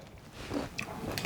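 Someone bites and chews hard, crunchy lupini beans close to the microphone, giving a few brief crunches over a low, steady background, with no talk.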